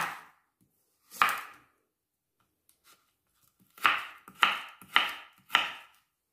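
A knife chops carrot into thin strips on a cutting board in sharp strokes: one isolated chop, a pause, then four quick evenly spaced chops close up.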